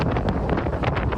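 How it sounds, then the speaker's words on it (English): Strong gale winds batter suburban Beijing in the morning, heavy buffeting gusts roaring loudly against the microphone in rough, uneven surges. "Hark upon the gale as you could hear the power of the winds battering morning suburban Beijing."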